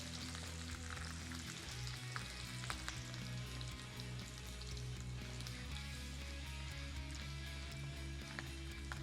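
Bitter gourd fries in a pan with keema, giving a steady, dense crackle and sizzle that stays fairly quiet and continuous throughout, with only a faint hint of a voice.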